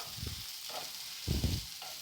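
Fennel seeds frying in hot oil for a poori masala give a soft, steady sizzle, with a few low, muffled bumps from the pan being handled.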